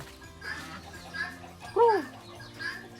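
A turkey clucks at its nest of eggs on a Thai farm, giving a few soft, scattered calls with one louder, rising call near the middle, heard close against low background noise.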